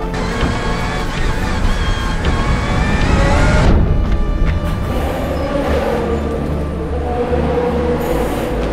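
Race car pulling into the pit box at Le Mans, a loud high engine whine that cuts off sharply partway through, leaving a lower mechanical rumble and pit-lane noise.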